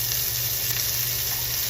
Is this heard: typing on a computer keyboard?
no